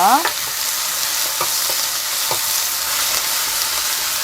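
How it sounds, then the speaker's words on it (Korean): Napa cabbage stir-frying in a hot pan with a little salt, a loud continuous sizzle punctuated by a few brief stirring clatters, close up. "산울염 소금 조금만 넣겠습니다. 배추 숨을 죽이기 위해서."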